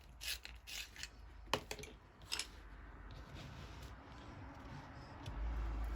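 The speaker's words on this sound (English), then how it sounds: "Now I'm going to get my black, give it a really good sharpen" A black colouring pencil is sharpened in a handheld sharpener: a few quick scratchy grinding bursts in the first seconds, then a quieter steady scraping close by.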